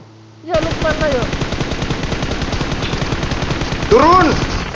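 Automatic weapons fire rattles in rapid, loud, continuous bursts during a PUBG Mobile match, with players' voices breaking in over the shooting.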